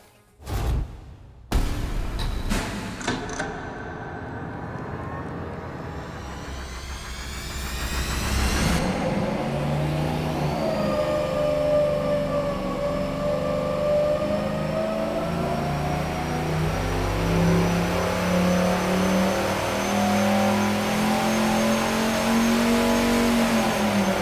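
A turbocharged Mopar 440 V8 on an engine dyno fires with a few sharp pops, then holds a loud sustained pull, its pitch climbing steadily as it revs under load, close and unbroken.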